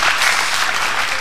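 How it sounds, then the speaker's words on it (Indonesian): A studio audience at an Indonesian talk show breaks into dense, steady applause, loud and continuous for the whole moment with no talking over it. "Beri tepuk tangan dong buat Mas Jarwo."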